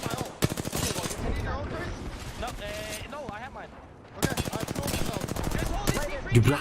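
Apex Legends gunfire during an ALGS competitive match: rapid automatic bursts crackle loudly in two dense stretches with a short lull between, while excited voices talk over the shooting.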